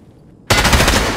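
Gunfire in Escape From Tarkov: a short quiet lead-in, then an abrupt, loud, sustained burst of rapid automatic shots.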